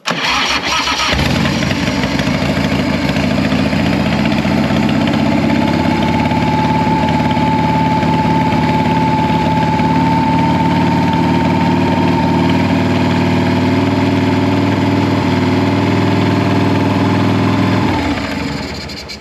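A Harley-Davidson motorcycle engine cranks and fires, then settles into a loud, steady idle that runs close and uninterrupted for about sixteen seconds before cutting off.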